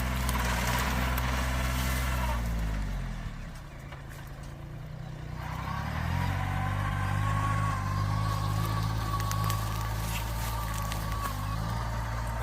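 A Kubota B2440 small tractor runs with a rotary tiller between sugarcane rows, its engine a steady, loud drone with a brief dip in the middle before resuming.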